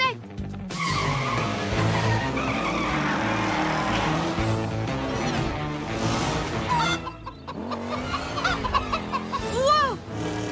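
A runaway turbo tire in a cartoon skids and screeches amid busy animated sound effects and music, with squealing bursts and shifting whines that grow more frantic toward the end.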